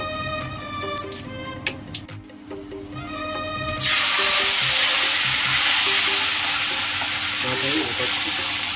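Whole cardamom, cumin and black cumin drop into hot oil, with light clinks and stirring at first, then a loud, steady sizzle and frying hiss that carries on to the end.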